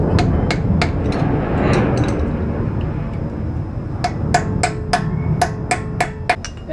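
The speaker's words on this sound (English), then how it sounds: "Punch this pin a little bit." Sharp metallic hammer strikes on a punch driving a pin on a 2014 Honda Pilot wheel bearing assembly ring out close by, first a few spaced blows, then a quicker series of ringing hits over a steady background hum.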